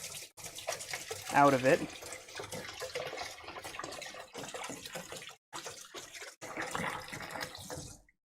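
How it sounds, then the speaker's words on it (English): Tap water runs steadily into a sink while a sieve is rinsed of tomato puree in a home kitchen, with a person talking briefly over the flow. "I'm gonna rinse it out just real quick to get any of that tomato puree"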